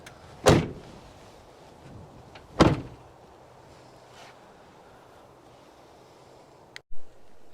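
A heavy door rolls and thuds twice in a quiet space, a few seconds apart, followed by a short knock near the end.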